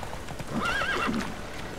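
A horse in The Witcher 3 neighs loudly with a rising, wavering whinny over rapid hoofbeats, close and clear for under two seconds with no talking.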